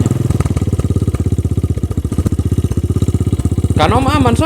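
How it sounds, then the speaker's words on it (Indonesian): A motorcycle engine idles close by with a fast, even chugging pulse on a road trip in East Nusa Tenggara, and a voice cuts in briefly near the end. "Aman Kak, bisa nyala motornya."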